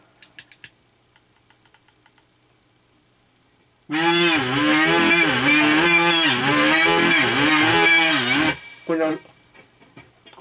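Kazoo fitted with a piezo pickup, run through a guitar synthesizer into an amplifier: a loud, buzzy, wavering synth-like tone holds for about five seconds, preceded by faint clicks and ending with a short burst.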